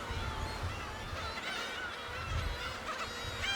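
Black-tailed gulls on Dokdo island call with repeated nasal, honking cries at a moderate distance over steady outdoor background noise, with no speech.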